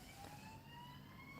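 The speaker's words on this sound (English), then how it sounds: "So you can hear the sirens in the background" A faint siren wails in the distance with a slowly rising tone, over a steady low hum of busy city traffic in Bristol, UK.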